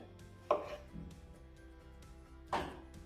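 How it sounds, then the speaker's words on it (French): Knife chopping the ends off courgettes on a board for a mini ratatouille: two crisp, close cuts about two seconds apart over a quiet kitchen background. "Donc on va commencer par les courgettes. On enlève les 2 extrémités."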